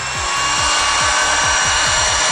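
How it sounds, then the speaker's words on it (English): A corded fiberglass cutting wheel slices through fiberglass mat with a loud, continuous grinding whine and a fast rhythmic rasping pulse, heard close and alone. "you can use the corded fiberglass cutting wheel"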